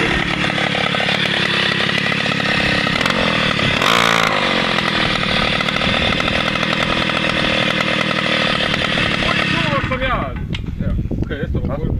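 A small motorcycle engine runs loud and close with a steady, harsh buzzing drone, rising briefly near the start and then dropping off toward the end.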